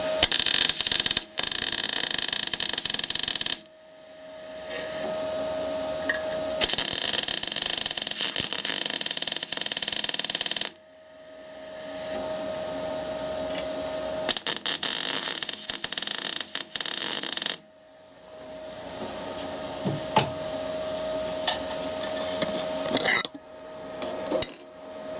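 An R-Tech MIG180 MIG welder lays welds on steel in several long bursts of steady, crackling sizzle, each lasting a few seconds and separated by quiet pauses, heard up close with no talking.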